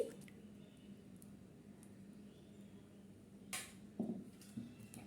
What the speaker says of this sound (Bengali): এই ডিমটাও আমি ভালো করে এর সাথে মিক্স করে নিচ্ছি